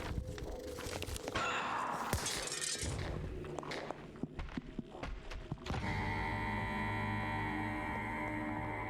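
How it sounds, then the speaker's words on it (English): Glass windows shatter under gunfire in the video game Hell is Others: a flurry of sharp cracks and breaking bursts, then a sudden switch to a sustained ringing, tonal game sound. "Taking out this gun so I can shoot out windows a little bit faster."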